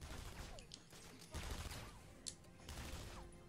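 Gunfire in the video game Batman Arkham Asylum, a dense, muffled burst of rapid shots and impacts mixed with game sound effects, fairly faint and continuous.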